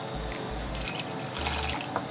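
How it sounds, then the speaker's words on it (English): Water is poured into a pot of boiling Nigerian pepper soup with assorted meat, making a short, fairly quiet trickle and splashing patter with a few drips. "I'm going to put just a little bit of water so it could cover"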